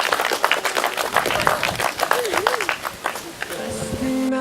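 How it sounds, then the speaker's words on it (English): Wedding guests clap and cheer right after the couple is pronounced husband and wife, a lively burst of applause with a voice over it, fading as music begins near the end. "A big cheer."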